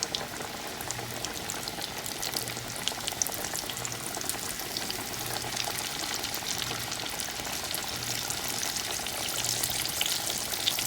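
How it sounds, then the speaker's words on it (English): Catfish pieces fry in a pan of hot oil with a dense, steady bubbling sizzle that stays even and close for the whole stretch, with no talk over it. "lower a couple of pieces of catfish into the oil"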